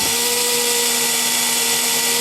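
Power drill driving a 2mm reamer to pre-drill holes in a Seth Thomas mantel clock, a steady high whine held without a break.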